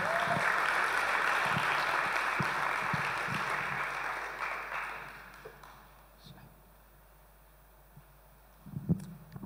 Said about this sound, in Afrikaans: Kom ons gee vir hom 'n lekker hande klap.